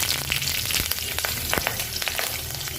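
Bay leaf, dried red chili and cumin seeds hit hot oil with a steady close sizzle and sharp crackling pops and spits scattered throughout.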